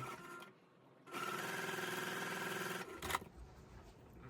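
A sewing machine stitches a quilt block together, a steady close mechanical whir running for about two seconds between quieter handling sounds, no speech.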